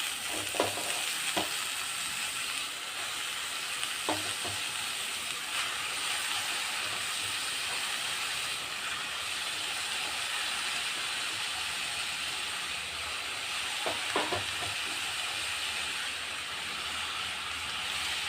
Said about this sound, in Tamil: கீரையை சேர்த்துட்டு ஒரு 2 செகண்ட் நல்லா வதக்கணும். இந்த எண்ணெயில் கொஞ்சம் வதக்கணும்.